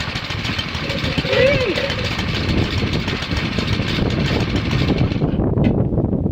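A rebuilt micro chopper motorcycle engine idles close by in a steady, even rumble that holds throughout, with a brief rise in the middle and no talk over it.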